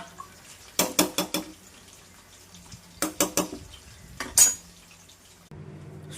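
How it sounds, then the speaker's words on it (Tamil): Ghee rice being stirred in a cooking pot, giving two quick bursts of scraping, clinking strokes about two seconds apart and a single sharp knock, then a low steady hum near the end. "நல்லா கிளறி விட்டுட்டு மூடி போட்டு ஒரு 2 விசில் மட்டும் வச்சு எடுத்துக்கலாம்."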